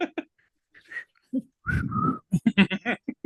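A person imitates a horror creature's feeding whistle with a few breathy tonal whistles, then a rapid string of short voiced chirping bursts, close and alone.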